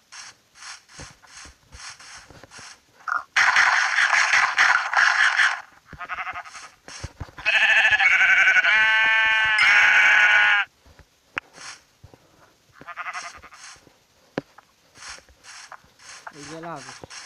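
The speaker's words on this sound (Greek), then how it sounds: "Αγελάδες στο χωριό." Cows mooing in a village within a video game full of monsters, zombies, spiders and skeletons: two long, loud, drawn-out calls, each lasting about three seconds, separated by quieter game noises.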